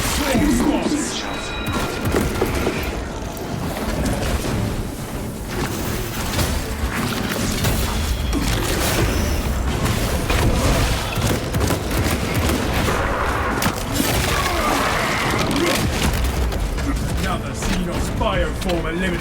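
Dense, continuous battle noise from the Space Marine video game, with blasts and explosions from melter charges mixed into gunfire and combat din, loud and sustained throughout under a steady wash of action sounds.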